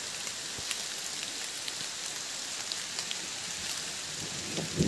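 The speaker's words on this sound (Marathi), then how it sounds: "पाऊस पडायला सुरुवात झाली आहे. बघा पाऊस पडते, नदीचं पाणी बघा" Steady rain falls on a river in a natural riverside spot during a sudden heavy downpour, a dense even hiss with scattered drop taps throughout, close and continuous, with no voices.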